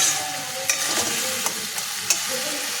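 Spices sauté in a pan for a kosha, a continuous close sizzle with a few sharp spatula taps against the pan scattered through it.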